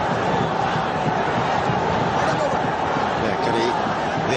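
Capacity crowd at a cricket match in the Sher-e-Bangla National Stadium, Pakistan versus India in the 2008 Kitply Cup final, a steady dense roar of many voices filling the stadium at constant loudness throughout.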